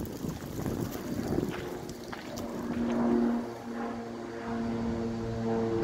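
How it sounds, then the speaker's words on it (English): An airplane passes overhead outdoors, a steady drone that swells and holds through the middle, with tonal engine hum over wind rumble and no talking. "here comes that airplane I was talking about"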